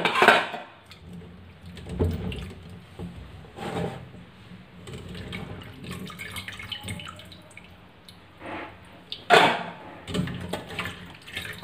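Cauliflower florets being washed by hand in a bowl of water, with irregular splashes, drips and light clinks of the vessel, close and unhurried, no talk.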